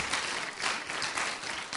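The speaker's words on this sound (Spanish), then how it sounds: "Dele un aplauso al Señor." A church congregation applauds during a Spanish-language sermon, giving sustained, fairly soft clapping with gentle surges in intensity and no speech over it.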